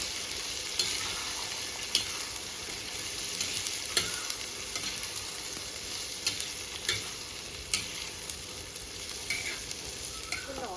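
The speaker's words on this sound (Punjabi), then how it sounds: "ਹੁਣ ਇਹਨੂੰ ਚੰਗੀ ਤਰ੍ਹਾਂ ਮਸਾਲੇ ਨੂੰ ਭੁੰਨ ਲੈਣਾ" Whole spices and coriander seeds roast and are stirred in a pan for Punjabi-style kadhi pakora on a traditional clay stove. The sizzle is soft and steady, broken by faint scraping stir strokes and occasional light ticks, with no voices.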